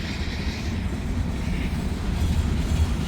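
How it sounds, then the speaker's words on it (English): A heavy freight train with every car fully loaded rolls past near Canal Ridge, a steady loud low rumble and grind of wheels on rail filling the moment without a break. "Yeah, man, that's a heavy train."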